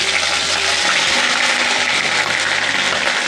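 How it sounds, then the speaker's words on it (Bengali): Ginger tossed into hot oil in a pan, a loud, dense, steady sizzle and hiss right up close that fills the whole stretch without pause. "এবার দিয়ে দিচ্ছি আদা"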